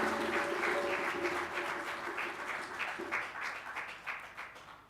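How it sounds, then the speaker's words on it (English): An audience at a broadcasting union assembly in Kingston, Jamaica applauds folk singers, with a warm round of clapping and a faint lingering tone early on, thinning gradually toward the end. "please, another round of applause for the Jamaican folk singers"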